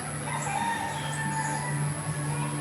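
A rooster crows in a backyard flock, answering a neighbour's bird; one long, steady call carries over a constant background hum.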